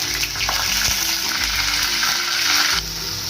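Ingredients frying in white oil in a pan for a Chinese-style chicken and prawn vegetable dish, a loud, dense, close sizzle that stays steady before dropping off abruptly near the end.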